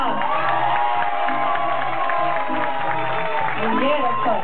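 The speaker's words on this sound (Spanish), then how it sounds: "¡Aplauso para Guatemalteca!" A studio audience at a Peruvian television show claps and cheers loudly and steadily for a contestant, with shouts and whoops rising from the crowd throughout.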